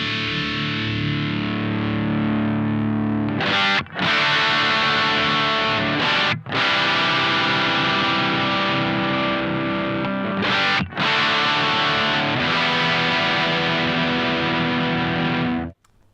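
Heavily distorted electric guitar through a Triple Wreck amp plays sustained chords, loud and dense, with brief breaks between strums as gain and bass rise across the passage.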